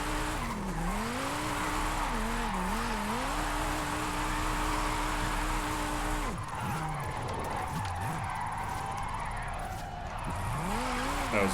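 A Formula Drift car skids on the handbrake in a racing video game, the engine note swooping up and down over a long, continuous tire squeal, with a brief pause before the screeching resumes.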